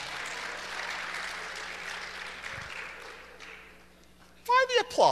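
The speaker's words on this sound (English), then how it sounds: "Why the applause?" Congregation applause during a bilingual church service, a broad wash of clapping that slowly fades out, followed by a voice speaking close up at the end.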